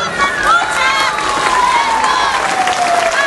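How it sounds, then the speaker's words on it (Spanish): Outdoor crowd applauding and cheering at a Mexican civic ceremony as the patriotic flame arrives in town, steady clapping mixed with voices and a sustained whistle or siren-like tone throughout. "Vamos a hacer un fuerte aplauso."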